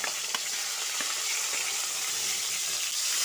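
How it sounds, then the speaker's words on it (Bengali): Chopped tomato hits hot oil seasoned with nigella seeds and dried chilli, setting off a loud, steady, close sizzle with faint crackles throughout. "এবার কুচিয়ে রাখা টমেটোটা দিয়ে দিচ্ছি।"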